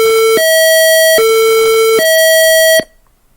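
Elevator alarm sounding as a loud, steady two-tone electronic siren alternating between a lower and higher pitch about every second, three cycles, then cutting off abruptly into silence.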